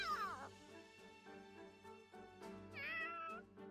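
A cat meowing in the Fire Emblem Warriors: Three Hopes video game, two drawn-out meows, one at the start and one near the end, over a soft music bed.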